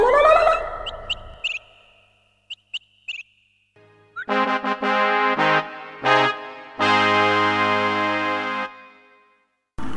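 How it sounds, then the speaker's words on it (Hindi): A mix of bird calls: short, sharp chirps at first, then louder, sustained harmonic cries and warbling song passages, with parrots, bulbuls and koels singing in a story scene. "तोतों ने मंत्र बोले, बुलबुलों और कोयलों ने मीठे गीत गाए।"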